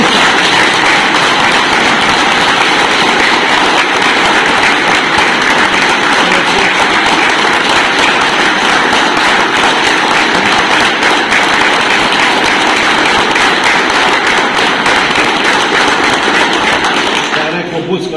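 A large crowd at a Serbian Armed Forces Day event claps for a man in a loud, sustained, dense wave of applause that holds steady for the whole stretch before tapering briefly at the end.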